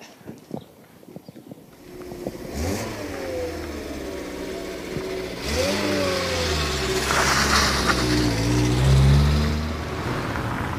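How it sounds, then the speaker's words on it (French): A Renault 4L fitted with solar panels starts its engine and pulls away, a rising motor drone building steadily and growing louder as it drives off, with no talk over it. "Bon, il y a un moteur quand même. Il y a un moteur. Elle roule? Elle roule."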